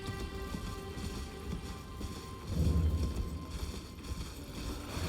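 Hooves of Torrent, the spectral steed in the video game Elden Ring, clip-clop in a steady rhythmic gallop over a low droning game soundtrack, growing heavier midway.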